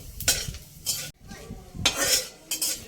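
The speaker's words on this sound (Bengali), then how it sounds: "5 ফোড়নটা ভালো করে ভেজে নিতে হবে" Dried red chilli and panch phoron fry in hot oil for a Bengali mango pickle, with bursts of sizzling and a spatula scraping and clattering against the pan in short, irregular strokes.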